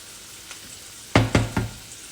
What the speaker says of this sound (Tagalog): Igisa-gisa lang natin ito